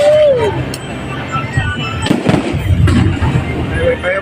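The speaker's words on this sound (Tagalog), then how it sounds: "Fireworks ito, guys." Fireworks go off at a soft opening event attended by the mayor, a whistling launch followed by crackling pops and several sharp bursts over steady crowd noise and talk.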